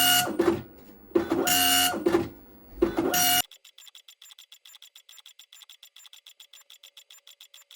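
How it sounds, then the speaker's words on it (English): An Apple ImageWriter II dot matrix printer prints in color with a restored ribbon roller. Loud, broad mechanical bursts come first, then a steady, rapid run of evenly spaced printhead clicks continues alone. "I went from not being able to print anything to now being able to print in color"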